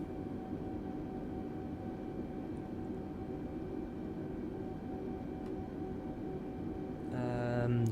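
Steady engine hum of an Air New Zealand A320neo taxiing in Microsoft Flight Simulator, a constant low drone with a faint whine, ending in a louder tonal swell.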